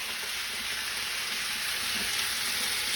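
Potatoes, onions and garlic frying in hot oil in a pan on high heat, a steady, even sizzle with a fine crackle throughout, close and fairly loud, no voices.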